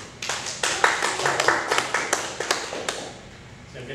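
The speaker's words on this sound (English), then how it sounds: "Better get a bit of applause" Sparse applause from a small class at a karate seminar after a session on trapping hands, a handful of distinct claps in an uneven patter that thins out and fades toward the end.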